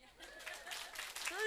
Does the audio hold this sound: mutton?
no